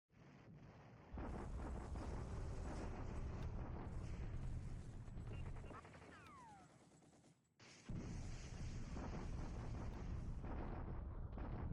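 Artillery bombardment in a WWII strategy video game set in the Burma campaign against the Japanese Empire: a dense, continuous roar of booming shellfire and crackling explosions, briefly dipping before resuming at full intensity.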